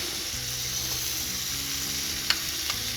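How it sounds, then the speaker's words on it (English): Meat sears in a hot pan with a continuous close sizzle and soft crackling, broken by a couple of brief metallic clicks near the end. "I'm going to sear it really good."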